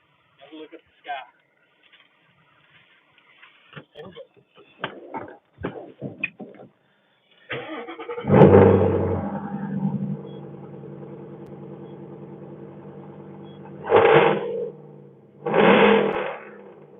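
A car engine turns over and catches at about eight seconds, then idles with a steady low rumble, loud and close, with two sharper bursts of revving near the end; before the start, scattered speech and small handling noises are heard.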